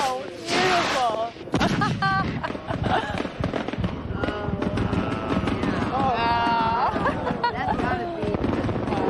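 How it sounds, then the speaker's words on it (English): Closing fireworks over Magic Kingdom at Walt Disney World boom and crackle in rapid, overlapping bursts, loud and close, while people nearby talk and cheer. "really you want to be here at night for the closing fireworks"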